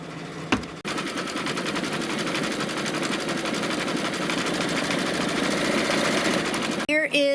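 An embroidery machine stitches a snowflake design for a quilt block, running in a fast, even mechanical hum with rapid needle pulses that holds steady for several seconds before stopping abruptly near the end.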